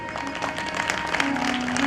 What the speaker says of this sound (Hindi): माय डियर, ताली बजानी पड़ेगी।